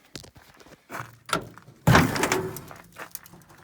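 The broken door of an old International Loadstar truck gives off a few metallic knocks and thuds, then a heavy, loud clunk with a rattling scrape that fades, followed by a faint later tap.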